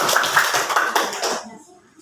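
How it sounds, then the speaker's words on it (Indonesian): A classroom of students clapping their hands together in a brief burst of applause, fairly close and busy, fading out after about a second and a half. "Tepuk tangan semuanya."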